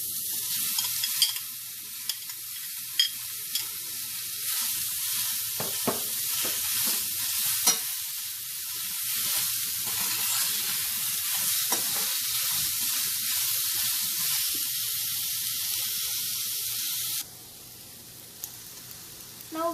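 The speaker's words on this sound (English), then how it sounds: "In the same pan, we are going to roast the green chilli and the onion." Green chilli and onion roasting in a pan, a bright continuous sizzle with scattered crackles and occasional stirring, fairly close and steady, dropping to a quieter hiss near the end.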